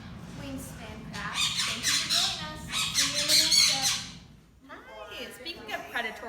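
A captive laughing kookaburra, native to Australia, gives its loud chattering, cackling call close by in rapid rising bursts, breaks off briefly, then starts up again more faintly.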